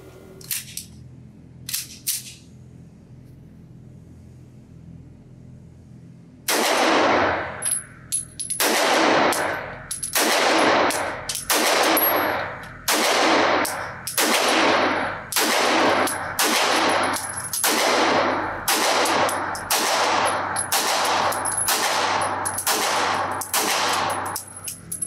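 A Nighthawk Custom Sandhawk 2011-type pistol fires at a range: after a few faint early pops, a string of about fifteen loud, sharp gunshots follows at a steady, deliberate pace, each with a brief echoing decay.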